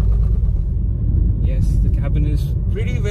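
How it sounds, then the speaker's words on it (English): Interior of a 2021 Renault Duster Turbo driving over a rough, bad patch of road, a heavy continuous low rumble and road noise throughout, with a person talking over it. "So now we're going over this bad patch of road, so let's see how this is."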